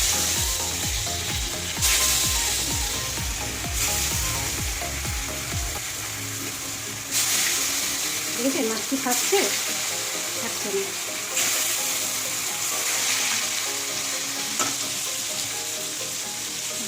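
Rita fish fry in hot oil with turmeric in a kadai, giving a broad steady sizzle that starts strong and settles into a continuous crackling hiss, while people talk briefly over it.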